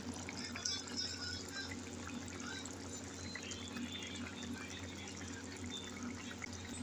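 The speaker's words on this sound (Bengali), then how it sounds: "ফুটন্ত ঝোলে এবার মাছগুলোকে ছেড়ে দিলাম দশ মিনিট মতো রান্নাটাকে হতে দিলাম" Bogo fish simmering in boiling curry gravy in a home kitchen, a steady low bubbling and watery burble that runs continuously at an even level with no voices over it.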